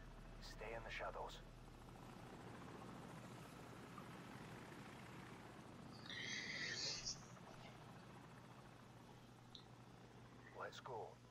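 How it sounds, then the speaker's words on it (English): Enemy helicopter in the Call of Duty 4: Modern Warfare video game, a steady rotor and engine drone holding throughout, swelling louder near the middle, with game sounds and voices around it. "Enemy helicopter, get down."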